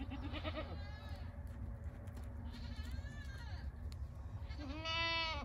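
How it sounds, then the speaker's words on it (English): A big billy goat bleating on a farm, with several drawn-out, wavering calls close by over a constant rumbling background, the last call the loudest. "That is one big billy goat that we bred to our mama goats"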